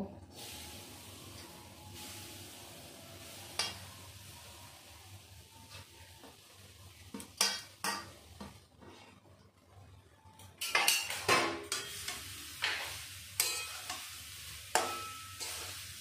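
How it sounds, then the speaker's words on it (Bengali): Grated coconut frying in a kadai hisses quietly at first, then a metal spoon stirs and scrapes against the pan in repeated clattering strokes, close and increasingly busy. "তো এখন আমি নারকেলটা ভেজে নেব"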